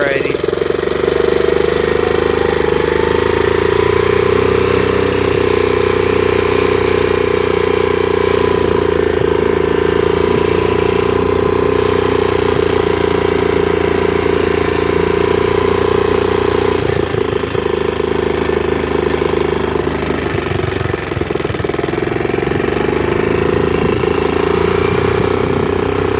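A newly rebuilt quad (ATV) engine idles close by, a loud, steady, continuous rumble that holds even for the whole stretch, with slight wavering but no clear revving.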